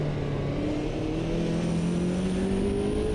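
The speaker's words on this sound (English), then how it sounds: "the car engine is really loud in my ears with these in-ear monitors" A Can-Am race car engine in Automobilista 2 drones loudly and continuously, its pitch climbing steadily as the car accelerates, heard alone without talk.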